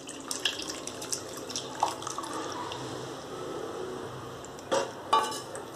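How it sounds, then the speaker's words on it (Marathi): Blended tomato soup is poured through a strainer, making a steady trickle of liquid with a few sharp clinks of a utensil against the pot near the end. "आपण ते आता गाळून घेऊयात."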